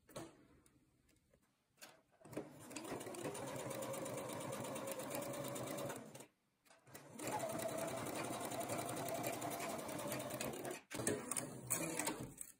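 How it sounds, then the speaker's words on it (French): A domestic sewing machine stitches into the groove of fabric piping in two steady, continuous runs of fast mechanical whirring, each a few seconds long, separated by a brief pause and followed by a short stop-start burst. "Et je couds bien dans la rainure du passepoil."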